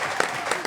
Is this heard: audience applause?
yes